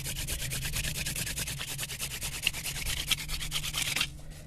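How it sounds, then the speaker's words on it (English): A wooden spindle hand drill spun fast against a fireboard for a friction fire gives a rapid, rhythmic back-and-forth rasping rub, close and steady for several seconds before stopping. "So it's time to drill faster and create a hot ember."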